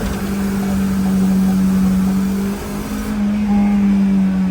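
A tuned FX car accelerates hard on a top speed run, its engine holding a loud, steady droning tone close by, with wind and road noise throughout and no talk.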